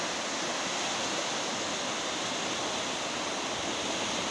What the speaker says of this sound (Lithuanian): Gana srauniai teka upė